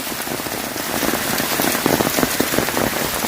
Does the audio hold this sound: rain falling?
yes